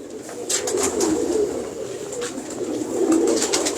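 Pigeons from an ustad's breeding loft coo softly and steadily, a low murmuring warble from several birds close by, with faint higher chirps above.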